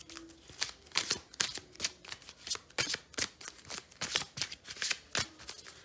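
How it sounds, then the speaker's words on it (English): A deck of cards being shuffled on a table during a tarot reading, crisp riffling bursts repeating in a steady pattern, close and clear, with no voice over it. "I'm going to shuffle these cards"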